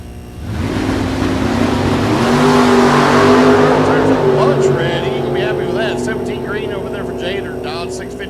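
Drag racing cars at Mid America Dragway roar off the line during Friday time trials, engines building to a loud sustained howl, then fading down the strip while an announcer talks over the noise.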